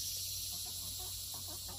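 Faint, soft clucking from chickens, several short low calls in a loose rhythm over a steady background hum and hiss.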